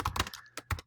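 Typing on a computer keyboard while entering text into a document, a short burst of several quick key clicks in an uneven rhythm, close and clear with no talk.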